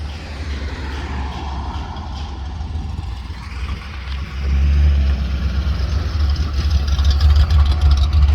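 A car engine hums steadily while driving, with a low drone that grows louder and heavier halfway through, a failing transmission whining under the road noise.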